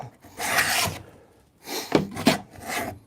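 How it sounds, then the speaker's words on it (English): Rasping strokes as a 3/16 inch groove is cut into wood on a workbench, two separate bursts of scraping, the second with a couple of sharper catches, close and fairly loud. "we're just cutting some grooves"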